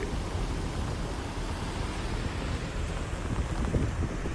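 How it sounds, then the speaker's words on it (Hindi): Heavy nonstop rain during the Nanded flood, a continuous broad roar with gusty rumble throughout, steady and unbroken. "पिछले 2 दिन से नांदेड़ में नॉनस्टॉप बारिश हो रही है"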